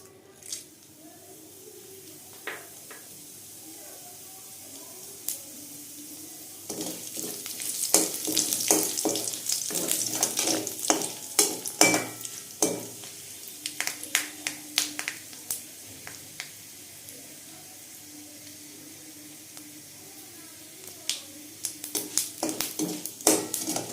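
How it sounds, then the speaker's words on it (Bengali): Spices tempering in hot mustard oil crackle and pop in sharp bursts over a steady sizzle, close and busy through the middle, thinning toward the end as potol chingri is cooked. "ফোড়নটা ভাজা হয়ে গেছে"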